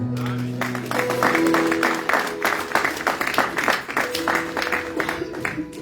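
A church congregation bursts into sustained applause and clapping for the Lord, a dense, steady wash of hands filling the room, with music and voices running beneath it throughout.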